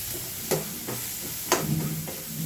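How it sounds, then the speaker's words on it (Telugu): Onions frying lightly in a pan for an egg masala curry give a quiet, steady sizzle, broken twice by sharp scrapes and clinks as a utensil stirs them. "ఎర్రగడ్డ కొంచెం లైట్గా ద్వారగా వేగాలండి"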